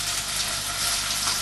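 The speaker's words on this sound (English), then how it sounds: "While you're cooking your meat and your onions and your mushrooms, frying them" Beef mince, onions and mushrooms fry in a pan for a beefburger curry, giving a steady, close hiss of sizzling that holds even and unbroken throughout without pause.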